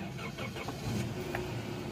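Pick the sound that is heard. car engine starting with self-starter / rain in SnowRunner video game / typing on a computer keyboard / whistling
car engine starting with self-starter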